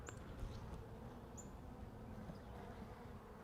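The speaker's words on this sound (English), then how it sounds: "That's a lot of bees down in there." Honey bees buzz in a low, steady drone inside an open beehive, a faint continuous hum with a few brief higher chirps near the start.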